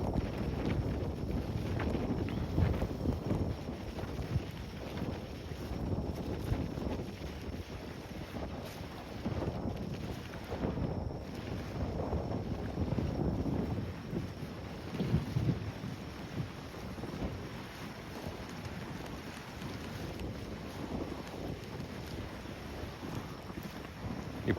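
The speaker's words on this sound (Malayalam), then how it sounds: "ഇപ്പോൾ നമ്മൾ കണ്ടുകൊണ്ടിരിക്കുന്ന വില്യം സി ഡാൽഡി എന്ന് പറയുന്ന ഒരു സ്റ്റീം എൻജിൻ ബോട്ടാണ്." Steady broadband rumble of water and wind around the William C Daldy, a steam engine boat on the harbour at Devonport, Auckland, continuous and fairly loud with no voices.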